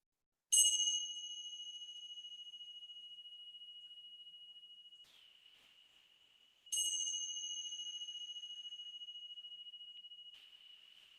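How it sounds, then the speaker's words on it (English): Two struck meditation bell tones, each a bright strike with a long sustained ring slowly fading, the second arriving about six seconds after the first, clear and alone in a quiet room. "as you hear the third bell"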